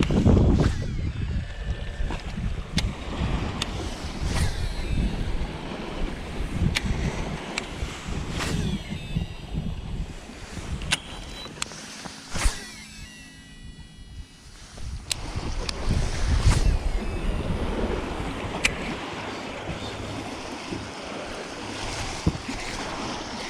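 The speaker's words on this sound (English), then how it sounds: "This wind, guys, is freaking crazy. Like, it is pushing us." Strong wind pushes a fishing boat on the water during wintertime smallmouth bass fishing: a continuous gusting roar buffets the microphone over lapping waves, with scattered sharp knocks and clicks from the boat and no talking.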